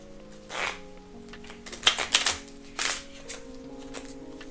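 Several short bursts of riffling cards, quick papery flutters with a few snaps between them, close by over a faint background hum.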